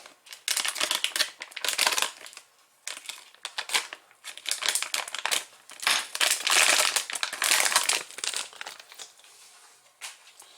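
A blue circuit expansion board for an Elegoo Smart Robot Car kit is cut free from its packaging, with repeated loud crinkling and snipping bursts in uneven clusters.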